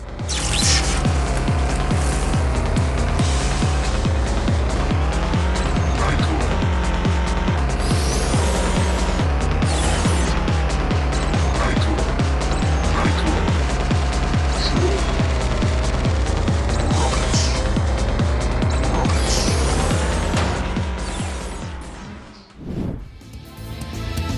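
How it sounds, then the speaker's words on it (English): Race cars in the mobile racing game Race Rocket Arena Car Extreme, loud continuous engine drones rising and falling with gear changes and occasional tire squeals, ending abruptly. "Race Rocket Arena Car Extreme has tons of circuits full of tight turns where you can show off your driving skills."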